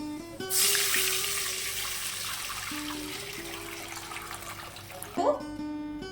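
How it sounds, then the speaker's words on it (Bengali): Water pours into a pan of garlic that has been fried until reddened, giving a steady rushing splash for about five seconds that ends abruptly. A low tonal background sits underneath. "এখন দিয়ে দেব জল জলের পরিমাণটা একটু বেশি দেব"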